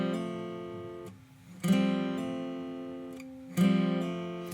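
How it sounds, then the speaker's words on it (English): A guitar plays a few plucked phrases, each fresh attack followed by quick note changes like hammer-ons, ringing clearly with short pauses between. "A hammer-on, you're gonna just move your finger really fast back to that string after you play it open"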